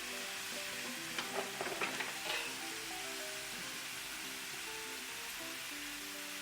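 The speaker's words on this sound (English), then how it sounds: "This red sauce is starting to bubble a little bit on the sides. I'm going to stir it a little bit." Hatch red chile sauce bubbling in a pan and being stirred, a soft steady simmering hiss with a brief cluster of scraping stir sounds early on, fairly faint.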